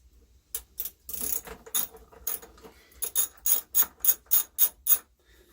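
A ratcheting wrench loosens a bolt on a welder, giving a series of sharp mechanical clicks that start irregular and then settle into about eight evenly spaced ratchet strokes, close and loud with no talking.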